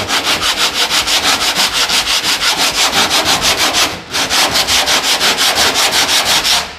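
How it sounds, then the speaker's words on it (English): A Mustang's front wing panel being hand-sanded, with a loud, close, rhythmic back-and-forth rasp of even strokes that pauses briefly midway, then resumes at the same steady pace. "just sand it down a little bit, not crazy amounts"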